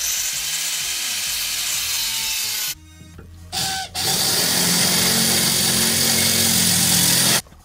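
Power drill boring through a Nissan Murano CVT cooler line pipe, a loud steady whine running in two long bursts separated by a brief pause and a short stop-start.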